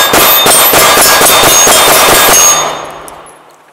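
A Sig P320 FDE Compact pistol fires a rapid string of loud, sharp shots at a silhouette target outdoors, the reports running together before the echo fades away.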